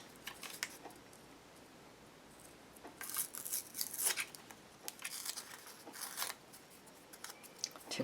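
A bamboo stick pries and peels back layers of cardboard, giving close, dry tearing and scraping sounds in irregular bursts, louder in the middle stretch, with no speech.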